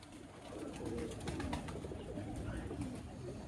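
Sufi Chapray pigeons coo in soft, low, repeated calls, close and steady, with faint background noise.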